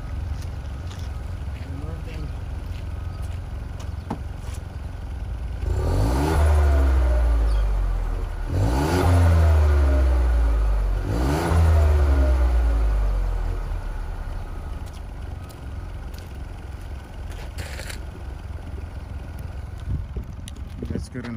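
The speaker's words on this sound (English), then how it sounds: "And that's the engine. It's not that loud. It's not supposed to be loud." A 2020 Ford Escape SE EcoBoost engine revs three times in quick succession, each rise swelling and falling back to a quiet, moderate idle heard up close.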